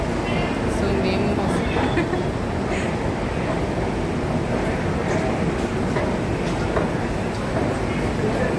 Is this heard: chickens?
no